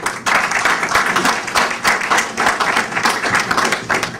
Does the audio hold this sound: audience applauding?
yes